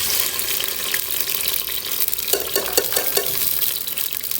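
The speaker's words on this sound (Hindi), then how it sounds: "तेल हमारा गर्म हो जाएगा तो फिर हम इसमें प्याज डाल के फ्राई करेंगे।" Chopped onions frying in half a cup of hot oil for egg pulao, a steady dense sizzle with scraping stirs clustered near the end.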